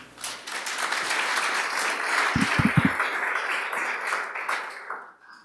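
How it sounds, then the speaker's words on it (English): A conference audience applauds steadily in a dense wash of clapping at moderate volume, with a few low thumps in the middle before the clapping fades out. "Another round of applause for the gentleman."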